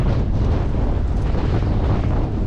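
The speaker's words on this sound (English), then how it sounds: "Just coming into Skull Harbour on a very windy day." Strong wind buffets the microphone as a boat comes into Skull Harbour on the west coast of Cork, making a loud, continuous low roar and rumble with no voices.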